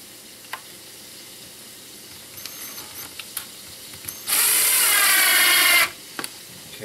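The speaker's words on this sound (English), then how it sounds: "drill that, or screw that in dead center as well." Power drill briefly driving a screw into a wooden end table, a loud steady whir lasting about a second and a half amid quiet workshop clicks and handling sounds.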